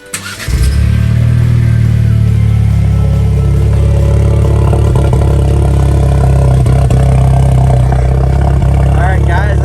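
A Jeep Wrangler JL fitted with a Flowmaster American Thunder exhaust fires up and settles into a loud, deep, steady idle rumble, recorded close by for about ten seconds.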